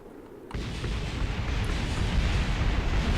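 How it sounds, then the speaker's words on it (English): Spacecraft parts without heat shielding break apart and explode during atmospheric re-entry in Kerbal Space Program, a sudden onset of loud, continuous rumbling roar that builds and holds steady to the end. "It was the rest of the ship going through atmosphere and breaking up because it doesn't have any heat shielding."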